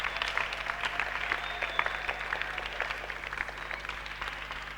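A Pentecostal church congregation claps steadily through a Christmas service, a sustained wash of applause with a low hum underneath.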